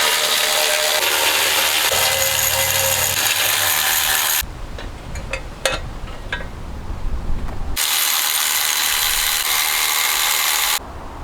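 Rapid clicking of a ratchet wrench removing intake manifold bolts on a Datsun 240Z, loud and close, in repeated bursts with short pauses and a few metallic knocks between.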